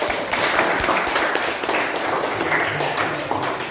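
Students in a classroom applaud a group presentation in an economics lesson with a dense, steady burst of clapping throughout.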